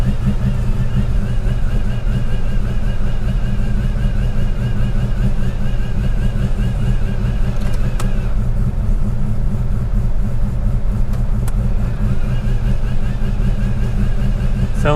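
A Holden VL car engine revving hard with a supercharged, blower-like whine, a loud continuous close rumble that holds steady throughout with little pause.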